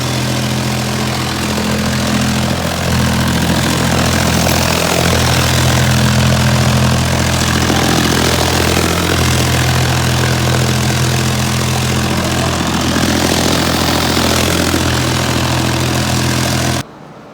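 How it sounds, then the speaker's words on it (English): A rug beater machine thumps continuously against the back of a dirty shag rug, a loud steady mechanical drone with a rolling low rumble that runs unbroken for the whole stretch, then cuts off abruptly at the end. "as it beats the back of the rug, any loose debris and soil are going to fall through to the grate"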